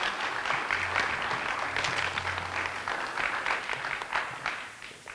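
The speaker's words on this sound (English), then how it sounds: "So, we could all give Lauren a great round of applause." Audience at a school board of education meeting clapping for a teacher, a modest round of applause heard somewhat distant and thin, steady for a few seconds before tapering.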